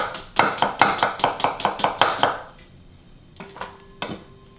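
A knife chops a peeled, halved Spanish onion on a board in quick, even strokes, about ten sharp taps in a row. A short pause follows, then a few slower, separate cuts.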